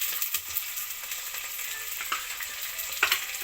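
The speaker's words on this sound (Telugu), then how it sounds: "ఆనియన్స్ కొంచెం వేగుతుండప్పుడే మనం ఆలూని వేస్తాం" Onions and green chilies fry in a hot pan for a Sunday soya-bean biryani, a steady close sizzle broken by a few scraping stirs.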